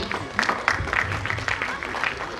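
An audience at a Gujarati prize distribution ceremony claps for high-scoring students, a short burst of scattered, uneven applause from a modest crowd with light background murmur.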